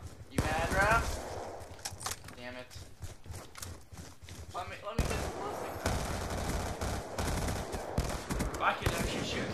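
Rapid gunfire from the video game Black Ops 2 rattles in dense bursts and volleys, mixed with excited talking from players throughout.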